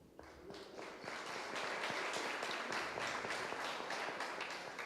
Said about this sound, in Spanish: vamos a darle un fuerte aplauso al licenciado Paulino Chávez Martínez